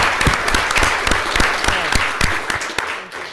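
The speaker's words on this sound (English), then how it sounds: "I think that deserves a round of applause." Steady applause from an audience at a city council meeting, many hands clapping in a dense, continuous burst that fades slightly toward the end.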